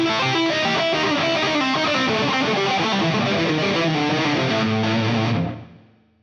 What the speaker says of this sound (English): another fun thing to do is take this blues scale and play fours with it